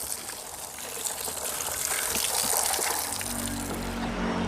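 Peeled raw mangoes are washed in water, giving a steady close splashing and trickling wash with no talk.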